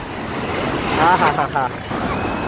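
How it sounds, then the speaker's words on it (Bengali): Ocean waves surge and break on the beach at Puri in a loud, rushing roar, with a person speaking briefly over the surf. "একটার পর একটা সেরা সেরা ঢেউ আসছে।"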